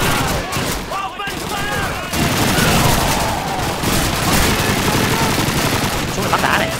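Dense bursts of gunfire fill a Call of Duty 2 battle, loud and continuous with overlapping shots and rattling automatic fire, while someone talks over the action.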